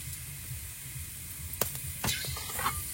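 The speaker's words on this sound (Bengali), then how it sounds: "গোটা গরম মশলা দিয়ে দিলাম।" Whole garam masala dropped into hot oil gives a steady soft sizzle, with a couple of sharper crackles and a spoon clink near the end, close and with no talking.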